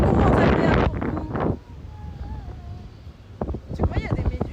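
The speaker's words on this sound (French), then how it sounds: "vous allez avoir le vent, ça va être beaucoup moins agréable pour vous" Wind gusting against the microphone at the beach in Mirissa, Sri Lanka, a loud roaring buffet that drops then returns in bursts, with people talking over it.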